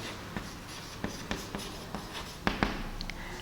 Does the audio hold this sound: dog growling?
no